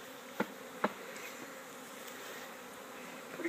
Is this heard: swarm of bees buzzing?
yes